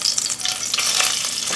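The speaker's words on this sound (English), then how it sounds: "we're going to stir this around for a couple of minutes with our onion" Steady sizzling of onion frying in hot oil for a black bean stew, a dense crackling hiss with a few brighter pops, close and continuous.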